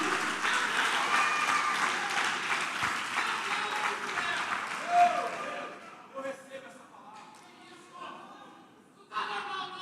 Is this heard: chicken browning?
no